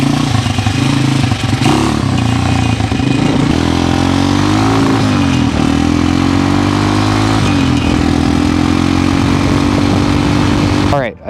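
Honda XR200 dirt bike engine running rattly and rough, loud and close, revving and settling in uneven surges across the whole stretch before cutting off abruptly at the end.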